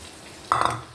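Raw mango pieces tumble into a pan of masala in one short, sharp clatter and splash that fades quickly into a soft sizzle, with no voices.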